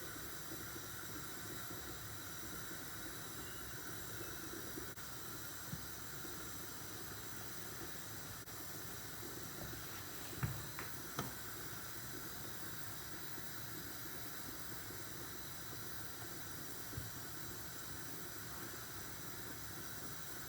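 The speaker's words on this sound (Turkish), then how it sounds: "Kaynamaya başladı. Üstüne çıkmaya başladı." An egg mixture boils in a pot, producing a faint, steady simmering hiss with occasional small bubbling pops and a few light knocks, heard alone without voices.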